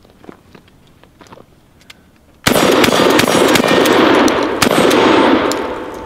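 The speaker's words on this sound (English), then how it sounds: "Shoot one more round. Let me see if I can just crank them out fast on that coffin target." A Mossberg 500 pump-action shotgun fires rapidly at a coffin-shaped target: a few faint mechanical clicks give way to loud, close blasts that blur into a sustained, booming roar.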